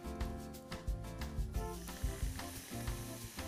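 Crepe batter poured from a small jug into a hot frying pan, a busy crackling sizzle with rhythmic scraping and tapping of the pan, close and fairly quiet.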